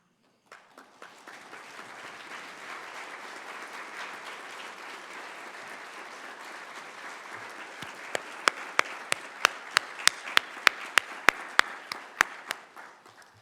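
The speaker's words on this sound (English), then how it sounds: "Would you please give them a round of applause?" An audience applauds board members at an academic conference keynote: steady sustained clapping fills the room, then a few loud, sharp individual claps ring out near the end as it fades.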